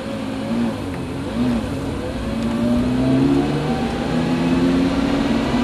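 Lamborghini engine pulling under throttle from inside the car, a steady droning tone that climbs in pitch, drops at a gear change and rises again, moderately loud throughout.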